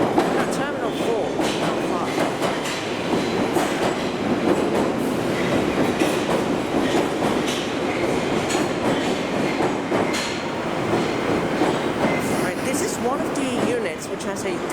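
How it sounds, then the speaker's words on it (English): A London Underground train bound for Heathrow rumbles and clatters steadily along the tracks at Manor House station, loud and close, with wheels clicking rhythmically throughout. "Alright, we got a train for Heathrow."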